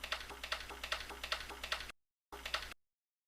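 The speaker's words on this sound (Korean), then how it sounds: "Alt 키를 누르고 엔터를 누르면" Computer keyboard keys click in quick, light taps while text goes into an Excel spreadsheet cell. The presses come close and fairly soft in a steady run, then stop abruptly before a brief final flurry.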